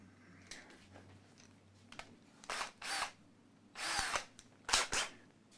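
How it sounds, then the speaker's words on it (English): Power drill boring holes during wiring repair on an Epiphone Les Paul electric guitar, several separate close whirring bursts of differing length, separated by quieter pauses with faint hum. "the drill."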